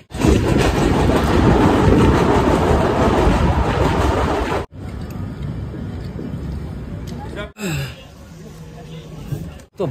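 Darjeeling Mail 12343 passenger train running on rails from Kolkata, diverted via Bandel and Katwa. A loud, dense rumble fills the first half, then drops to a quieter steady clatter broken by brief gaps, heard from inside a carriage.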